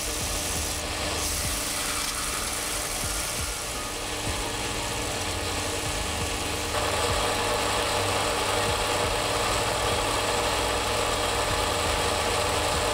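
A belt sander grinds a shop-made gear cutter in a workshop, a steady loud mechanical whir with scraping contact sounds, rising in level partway through as the work continues.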